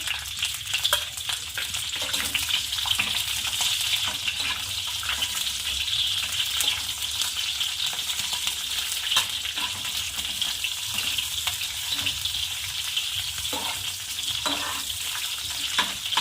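Large farm-grown green chillies fry in a pan with cumin, giving a continuous close sizzle and crackle with occasional stirring scrapes throughout.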